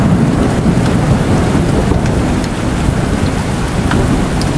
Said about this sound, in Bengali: বৃষ্টির কোনো বিরাম নেই।